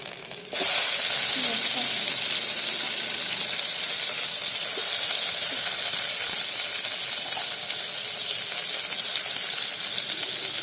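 Tomatoes hitting a hot pan on a wood-fired stove, a sudden loud hiss that settles into a steady, close sizzle running unbroken for several seconds.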